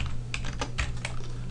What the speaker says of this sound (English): In the find box we're going to type in 120